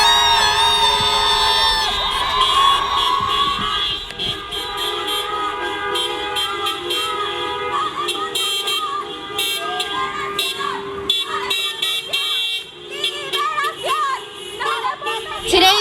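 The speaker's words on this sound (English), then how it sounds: "You can honk your horns for the folks inside." Car horns honk repeatedly at a car rally outside a San Mateo County jail, loud and sustained toots overlapping with a cheering, shouting crowd throughout.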